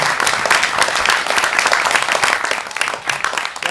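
A premiere crowd gives a filmmaker sustained, loud applause at a world film premiere, thick steady clapping that eases slightly near the end.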